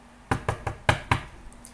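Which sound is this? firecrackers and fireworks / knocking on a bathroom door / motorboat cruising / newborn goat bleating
knocking on a bathroom door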